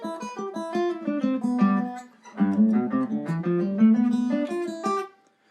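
Open-string lick on guitar: a quick run of bright picked notes ringing into each other, a short pause, then a second rolling phrase, played solo and up close.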